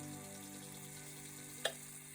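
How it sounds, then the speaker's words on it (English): Onions fry with a steady sizzle and a faint crackle throughout, plus one brief sharp pop near the end. "do you hear that crackling, the sizzle?"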